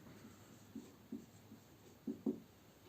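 Chalk or marker writing on a classroom board during a sociology lecture, five soft taps and strokes spread unevenly over a quiet room hum, fairly faint and close.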